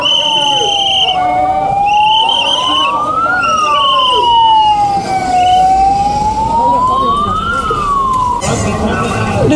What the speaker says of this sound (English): So probably some ambulance is coming and they are making a way for the...